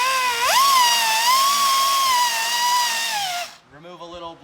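An electric drill whines steadily at close range, boring out a rusted intake manifold bolt on a Ram Promaster van. Its pitch rises as it spins up, holds, then drops before it cuts off into brief rattling.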